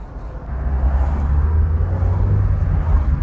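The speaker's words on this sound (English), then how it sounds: "Certainly this car is not short of power." Mazda 323 (BF) accelerating on a road, a loud, steady low engine drone with road rumble rising slightly as it pulls, heard from inside the car without talk.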